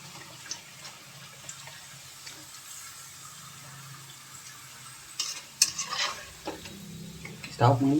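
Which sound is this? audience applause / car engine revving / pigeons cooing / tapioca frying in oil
tapioca frying in oil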